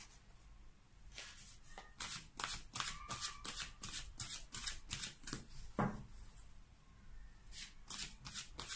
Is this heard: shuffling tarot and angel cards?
yes